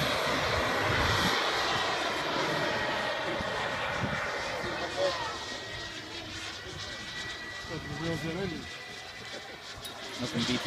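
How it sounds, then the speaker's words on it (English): A model jet with a turbine engine flies at a fly-in, its roaring whine loud and sustained as it passes, with a voice talking over the engine noise. "Nothing beats that turbine sound."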